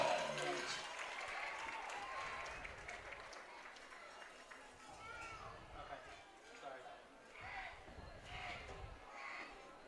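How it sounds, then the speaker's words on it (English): Audience applause for a school booster club at an agriculture appreciation awards event during a basketball season, steady clapping and crowd chatter filling a large room, at moderate distance and fairly faint. "Let's give them a round of applause."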